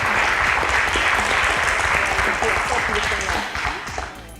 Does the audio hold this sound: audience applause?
yes